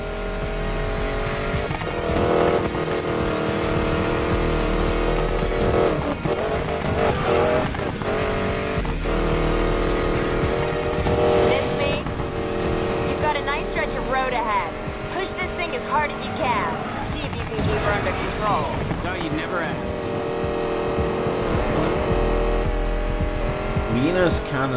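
A car engine revving hard near redline in the game Need for Speed Payback, loud and close, with rising and falling engine whine and tire squeals, under an excited voice talking over it.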